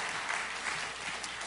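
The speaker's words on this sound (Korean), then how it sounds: "여러분 박수로 격려해 주시기 바랍니다." Church congregation applause during a Sunday worship service, a steady, even wash of clapping heard at moderate distance, without speech.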